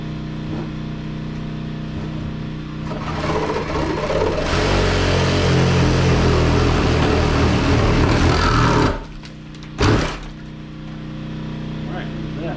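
A reciprocating saw cuts into a rotten trailer, a loud, steady buzzing run of several seconds that stops suddenly, with a brief second burst after it and lower mechanical noise before and after.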